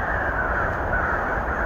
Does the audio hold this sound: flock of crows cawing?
yes